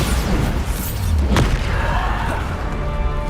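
A Bombarda spell bursts in Hogwarts Legacy, one sharp blast with a booming low rumble, near and loud over steady game background noise.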